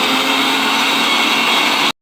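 An electric mixer grinder whirs steadily and loudly while grinding spices for a soybean curry in a home kitchen, running for a couple of seconds before stopping abruptly.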